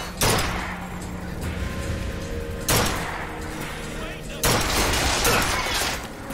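Three heavy gunshot blasts from a weapon in Bioshock Infinite, spaced a couple of seconds apart, each a sharp loud crack with a long reverberant tail, over game background sound.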